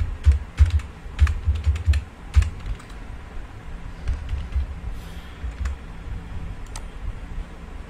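A computer keyboard is typed on up close as a password is entered, with a quick irregular patter of crisp key clicks, denser at first and then thinning out, with no talk.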